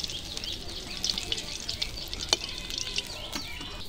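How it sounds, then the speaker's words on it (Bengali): Bata fish fry in oil, a continuous high crackling sizzle up close, dotted with sharper pops and light spatters. "এইভাবে করে মাছ ভেজে নিচ্ছি"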